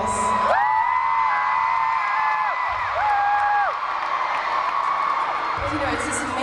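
A concert crowd cheers and whoops loudly, with rising shouts and yells swelling over a dense roar of voices, while someone talks close by throughout.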